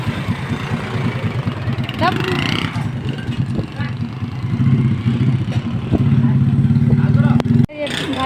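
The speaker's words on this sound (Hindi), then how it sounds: "अभी भाई जा रहा है चेक करने बाइक" Motorcycle engine idling and running steadily at a mechanic's shop during a bike repair, a low rumble throughout with a clatter near the end, while people talk over it.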